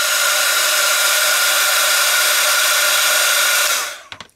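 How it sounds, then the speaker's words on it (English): A heat gun remelting embossing enamel on wood blows with a loud, steady rushing hiss, then shuts off near the end, leaving a few faint clicks. "you can just go back in with the heat gun, remelt the embossing enamel"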